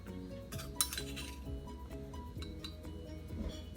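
Ingredients crushed by hand in a mortar with a pestle, giving close, quiet rhythmic pounding with light clinks and one sharper knock near the start, while steady low music plays underneath.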